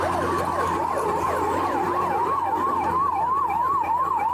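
Ambulance siren wailing steadily in heavy traffic beside the Dwarka Expressway flyover works, loud and close, its rising and falling tones over a constant road rumble.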